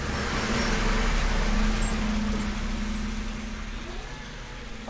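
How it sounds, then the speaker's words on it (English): Road traffic with a bin truck idling and rumbling close by, a steady low engine drone under general roadway noise that eases off toward the end. "Say, I didn't think traffic would be that busy around here, mind?"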